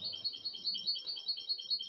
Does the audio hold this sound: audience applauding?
no